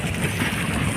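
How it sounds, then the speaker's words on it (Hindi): Strong wind blowing across the open ground at Mongra dam, a steady, loud broadband rush buffeting the microphone without pause and with no voices over it. "देखो कितना जोरदार हवा चल रही है सर"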